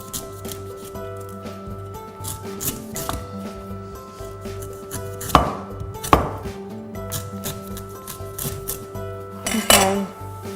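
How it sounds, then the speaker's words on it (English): A cleaver shaves down the top of a coconut, sounding as close, irregular knocks and scraping strokes, with a few sharp, louder hits near the middle and end. "to open up a coconut, we simply grab a cleaver and shave down the top"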